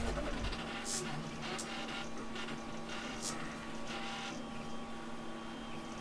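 PTFE tube vibrating on an FT5 3D printer fitted with a 600 mm fan, a faint steady buzzing hum with a droning tone, broken by a few brief clicks and rustles.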